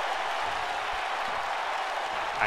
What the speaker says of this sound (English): Isaiah Evans hyping up the crowd here in Seattle again